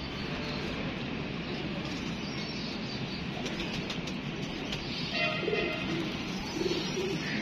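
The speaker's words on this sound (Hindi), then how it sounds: "ये कबूतर है दोस्तों उड़ने वाले।" Flying pigeons kept by a hobbyist, with soft cooing heard over a dense, steady outdoor rumble and broadband noise, and a few faint chirps near the end; no speech.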